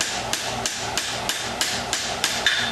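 A hammer strikes metal during flux-assisted jump welding of a toe bar on a horseshoe, with sharp, evenly spaced blows, about eight in under three seconds, heard close over a steady, broadband roar.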